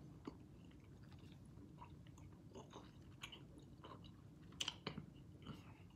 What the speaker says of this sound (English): That's more of a chewing exercise.